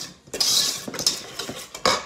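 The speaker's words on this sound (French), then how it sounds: "On remélange un petit coup." A utensil stirs a mixture in a bowl while making a sushi and raspberry cheesecake recipe, giving a few quick scraping and clinking strokes, close and fairly loud, with no talking.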